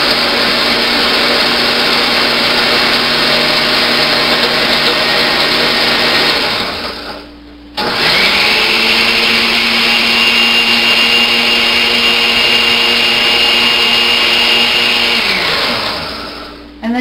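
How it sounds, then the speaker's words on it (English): A blender purees raw pea and leek soup with miso, running at a loud, steady whine, then briefly stopping and restarting at a slightly different pitch before winding down near the end. "And then you can blend it up to the desired consistency."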